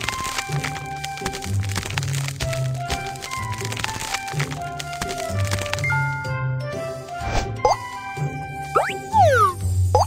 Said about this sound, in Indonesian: Remas agar kantong bagian dalam terbuka. Kocok kompres es untuk mendinginkannya.